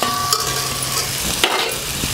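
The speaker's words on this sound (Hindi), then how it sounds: "अब ये आलू है, इसमें हम डाल देंगे फ्राई आलू।" Fried potatoes tumble into a pan of sizzling pea nimona with tomato, giving a steady close frying hiss with a couple of brief clatters from the spoon, and no talking.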